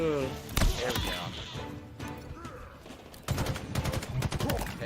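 Gunfire in a GTA Vice City shootout crackles in bursts, with sharp shots and a rapid volley near the end, while someone talks over parts of it.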